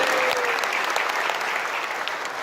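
Dense, loud applause from a crowd at a regional organization's assembly in Jakarta, a sustained even wash of clapping.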